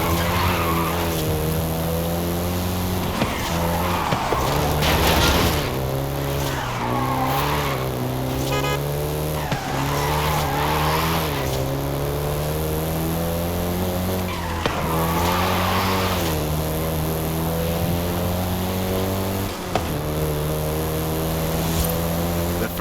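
Volkswagen Golf GTI in Forza Horizon 5, engine droning steadily with rising and falling revs while tires skid and squeal in repeated bursts, loud and close throughout.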